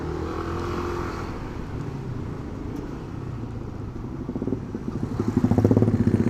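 Two-way road traffic on the Puncak route in Indonesia, with a steady wash of passing cars and motorcycles. Engines rumble continuously and grow louder near the end as a motorcycle approaches close by.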